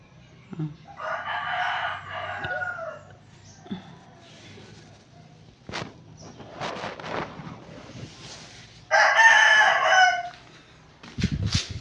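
Neighbours' roosters crow twice, separated by several seconds, among scattered clucks, knocks and rustling in a crowded residential area, each crow strong and drawn out, the second louder.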